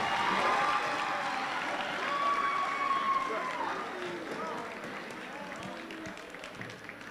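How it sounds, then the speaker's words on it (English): Crowd applause at a Glenville high school pep rally, broad clapping and cheering filling the space for several seconds and slowly fading, with voices and an amplified tone woven through. "Let's give them another round of applause."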